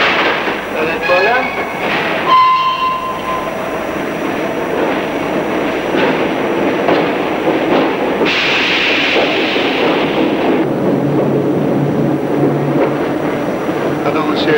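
A Paris metro train pulls into a station in an early-1950s setting, a steady rumble with brief squeals and clatter under platform noise, with voices speaking over it throughout.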